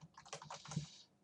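A computer keyboard is typed on during a Unity C# networking tutorial, giving a brief, quiet burst of rapid key clicks up close.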